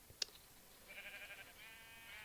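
A sheep in Minecraft gives a short wavering bleat, faint and alone after a sharp click.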